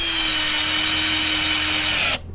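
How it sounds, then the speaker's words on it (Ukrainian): A power drill drives the final screw into a homemade wooden bowl stand for a dog, a steady high whine held close for about two seconds before cutting off abruptly, no voices. "Все, що я можу сказати, закручую вже крайній шуруп."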